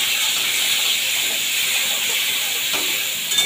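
River prawns frying in a pan, a steady loud sizzling hiss that runs unbroken and close throughout.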